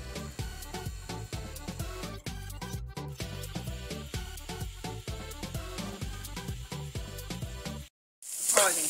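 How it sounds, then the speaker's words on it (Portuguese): Calabresa sausage and bacon fry in a pan with a close, crackling sizzle, sharp pops recurring in quick rhythm under a steady hiss for several seconds, then a short silence and a burst of brighter hiss. "Colocar a calabresa. Dá mais uma fritadinha e já molho."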